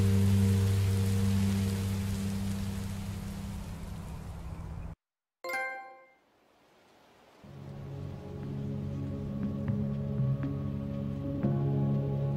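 Steady rain falls in the video game Minecraft Story Mode, a dense hiss for about five seconds before cutting out, with softer ambience returning afterward.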